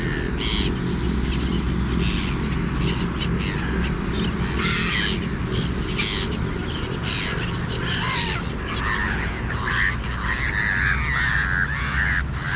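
Crows caw over an open field, several harsh calls rising above a steady outdoor rumble of wind and distant noise, moderately near and continuous throughout.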